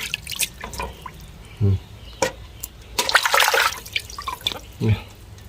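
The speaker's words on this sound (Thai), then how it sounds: "เราก็ทำการล้างปลาครับผมเนาะ ล้างข้างในพวกสิ่งสกปรกพวกนี้พี่น้อง เอาออกให้เบิดเลยครับผม" Running water splashes and drips as a gutted snakeskin gourami is rinsed clean inside, with intermittent gushes and trickles close by and a voice speaking over it.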